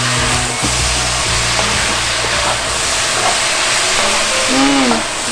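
Loud, steady broadband sizzle of garlic hitting onions frying in a pot for a beef stew, a continuous hiss filling the whole stretch with faint clatter early on and a brief voice near the end.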